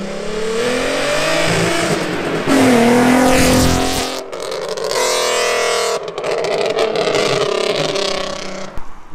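Nissan Skyline R32 accelerating hard away from a car meet, a loud close engine roar climbing through the revs with a gear change midway, then more revving and the hum of other cars, no talk.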